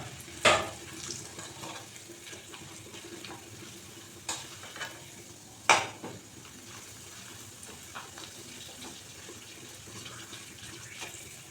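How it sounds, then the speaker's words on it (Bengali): Papad (poppadoms) frying in hot oil in a home kitchen: a close, steady sizzle with a few sharp crackling bursts, no talking. "আগে পাঁপড়গুলো ভেজে নিই।"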